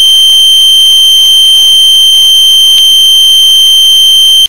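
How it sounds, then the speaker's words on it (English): Continuous electronic buzzer tone sounding steadily at a railway station as a train online indication appears, loud and alone with no talk. "C, train online indication appears at station A and buzzer sounds."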